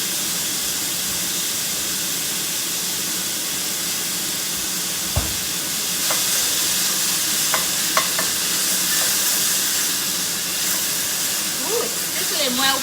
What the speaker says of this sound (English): it's sizzling well, Pete.